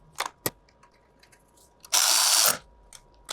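A power tool drives bolts on a Ford Ranger Raptor in one loud half-second burst, set among scattered faint clicks and taps of handling in a quiet space.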